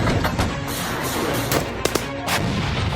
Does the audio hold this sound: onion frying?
no